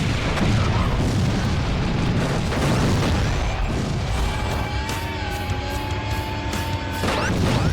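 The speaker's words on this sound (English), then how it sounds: "Maybe I could explode them with something." Heavy booms and crashing explosions from car combat on a carnival stage in Twisted Metal 4 roll one after another, loud and continuous, with metallic tones ringing beneath the blasts.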